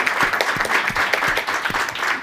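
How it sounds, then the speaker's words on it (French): Audience at a French-language research lunchtime talk on crisis management and emergency services logistics claps in a brisk, slightly uneven rhythm, a short burst of many hands heard close and moderately loud. "On vous applaudit à nouveau."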